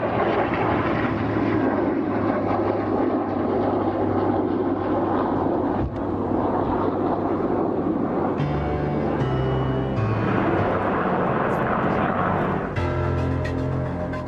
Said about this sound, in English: The Tornado F3 departed, leaving the Spitfire and the Typhoon, the past and the future in perfect harmony.